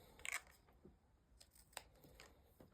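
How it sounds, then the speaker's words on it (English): Scissors snipping paper and tape while making an extending pop-up card, a few quiet close cuts and rustles spread unevenly in a hushed room. "Let's grab my scissors."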